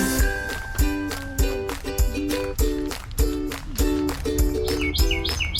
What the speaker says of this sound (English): we have to record a bird